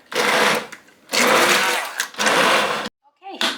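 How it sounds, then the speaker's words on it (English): Immersion blender pureeing softened cranberries for cranberry butter, a loud steady motorized whir in three long bursts separated by short pauses, close by, ending in near silence with a brief faint sound. "I'm gonna try and see if I can get these smooth enough with just my immersion blender"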